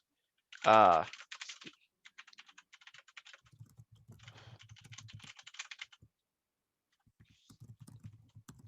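A computer keyboard is typed on in quick, light clicking runs with brief pauses, close and soft, after a short burst of talk at the start.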